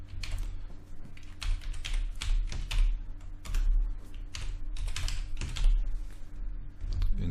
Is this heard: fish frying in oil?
no